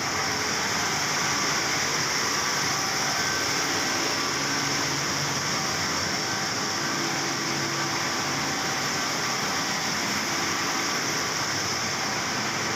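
A Cummins VTA-28 diesel engine running with an oil leakage fault, gas and lube oil venting through two breather pipes: a loud, steady mechanical drone and airy rush with a constant hum, unbroken throughout.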